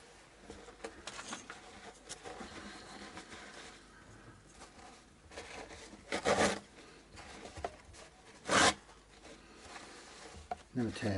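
Tissue paper is torn at a guitar workbench, rough papery rips in a few loud bursts amid quieter rustling.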